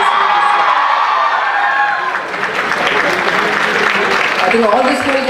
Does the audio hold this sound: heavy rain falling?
no